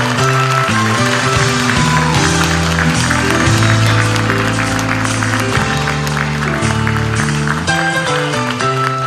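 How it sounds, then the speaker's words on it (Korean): A crowd at a Korean party's North Jeolla founding rally claps to welcome co-leader Sim Sang-jung, the dense applause running the whole stretch beneath loud, steady music. "뜨거운 박수로 환영해 주십시오"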